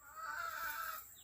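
Gamefowl hens clucking softly and steadily in a breeder's pen, a continuous close murmur of low calls lasting just over a second with no talk.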